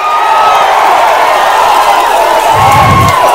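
A large crowd at a 2024 Andhra Pradesh election public meeting in Rajam roars continuously and loudly, with cheering and shouting blended into one dense, sustained wall of sound.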